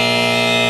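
A quiz-style buzzer on a sports talk radio show gives one short, loud, steady electronic tone lasting under a second.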